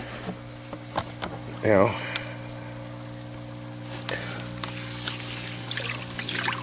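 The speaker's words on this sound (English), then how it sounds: "let's agitate it, stir it up" Liquid plant nutrient brew being stirred and agitated in a container for cucumber plants, a short burst of sloshing swirl midway among scattered small clinks, with a brief spoken remark over a steady background hum.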